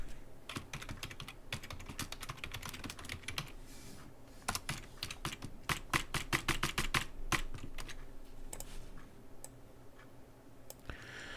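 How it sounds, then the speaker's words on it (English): A computer keyboard typed on hard, with rapid, uneven bursts of sharp clicking keystrokes running steadily throughout at a moderate, close distance, without talk. "I'm just pounding the hell out of this keyboard tonight"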